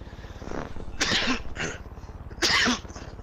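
Two sneezes burst out close to the microphone over a low rumbling background hum, the second louder than the first, with no talking.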